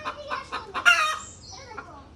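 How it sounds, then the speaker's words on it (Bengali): Chickens in a village yard, a run of clucks followed by a brief crowing burst, fairly close and moderately loud, trailing off into quieter clucking. "মুরগি দেখবে"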